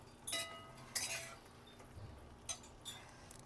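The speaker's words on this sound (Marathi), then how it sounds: "शिजवलेले शेंगा टाकून घ्यायच्या आणि मिक्स करायचं चांगलं." A spoon clinks against a pan while cooked drumsticks are stirred and mixed, a few sharp metallic taps spaced apart over a quiet kitchen background.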